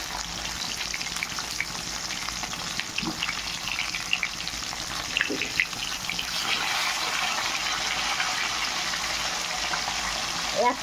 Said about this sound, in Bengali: মাছগুলো ভাজা হয়ে গেছে, এবার উঠিয়ে নেব।